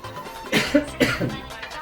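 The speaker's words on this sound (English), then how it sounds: "You know why I'm coughing? the chili." Two or three sharp, close coughs in quick succession, set off by chili while eating, with a short throat-clearing rasp trailing after.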